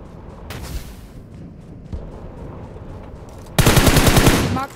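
Gunfire during a PUBG Mobile match on the Livik map, scattered distant single shots and then a loud, close burst of rapid automatic fire lasting about a second, with faint background game noise.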